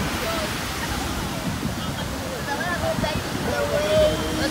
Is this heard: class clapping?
no